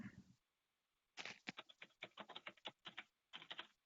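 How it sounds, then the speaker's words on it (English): Keys clatter on a computer keyboard in close, quick bursts, with a short pause before steady rapid tapping resumes in clustered runs; nobody speaks. "More typing."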